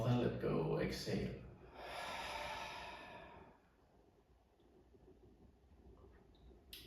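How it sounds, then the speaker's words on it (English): A long, deep, breathy exhale through the open mouth at the end of a Vinyasa yoga class. It is heard up close, swells for a couple of seconds and fades into a quiet room. "open your mouth and let go, exhale."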